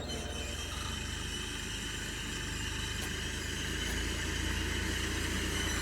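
A tractor engine runs during mulching work on a farm field, a steady low rumble that holds constant throughout and grows slightly louder toward the end, heard at moderate distance with no voices.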